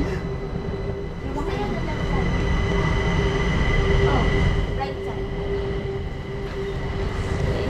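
An MRT metro train rumbles through a station in Kaohsiung, Taiwan, a loud sustained low roar with steady tonal hums and occasional wheel squeals, as people talk faintly in the background.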